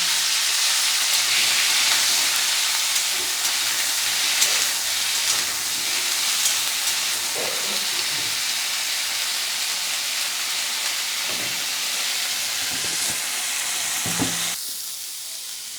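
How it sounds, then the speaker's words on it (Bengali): Vigorous, steady sizzling of cauliflower florets frying in hot oil in a kadai, close and loud, with occasional clanks of a utensil before it cuts off near the end. "সেই ফুলকপিগুলো একটু ভাজা নেবো"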